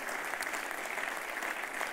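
Steady applause from a church congregation fills the space, continuous dense clapping without letup and no speech over it.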